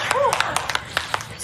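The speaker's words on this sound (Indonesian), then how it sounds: "Mari kita beri tepuk tangan." A few people clap in scattered sharp bursts, near and uneven, with voices talking and a brief whistle-like call over them.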